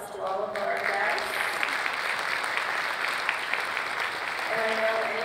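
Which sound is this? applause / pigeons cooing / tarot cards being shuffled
applause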